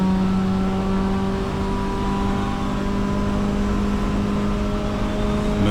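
A race car engine in fifth gear on the Road America circuit, holding a loud, steady, high drone with sustained whining tones and very little change in pitch.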